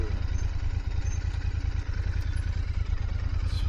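A motorcycle creeps along a dirt path during a road trip in Baja, its engine chugging in a steady, close, low idle-like pulse with a light clatter throughout.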